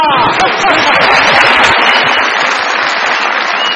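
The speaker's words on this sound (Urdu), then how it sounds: "ان کی ساس کے لیے تالیاں" Studio audience applause on a Pakistani comedy talk show, a dense, steady wash of clapping that holds loud and even for the whole stretch, with faint crowd murmur mixed in.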